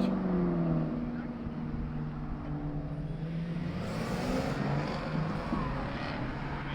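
Several race cars pull out onto the Gingerman circuit during a morning session, their engines droning and revving steadily at moderate distance, a continuous layered roar with a brief rise in the middle.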